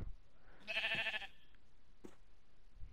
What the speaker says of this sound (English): Of course there's a sheep.